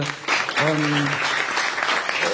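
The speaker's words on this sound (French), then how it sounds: "si vous pouvez l'applaudir bien fort, Nadège, sa présidente" Audience applause at a French book reading in Nice, steady clapping filling the room under a brief spoken voice near the start.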